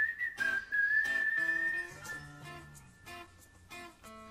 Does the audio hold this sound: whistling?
yes